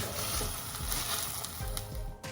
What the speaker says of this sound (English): I'm going to cook that on medium heat until the onions become a nice brown colour